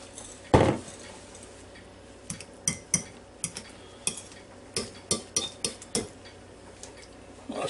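Mashed potatoes stirred in a pot, one heavy knock followed by a run of close, irregular metallic scrapes and taps of a utensil against the pot, with no talking.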